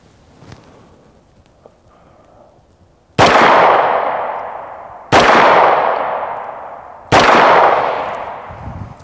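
Three loud, sharp 9mm pistol shots strike body armour about two seconds apart, each followed by a long ringing decay. A faint tap comes before them.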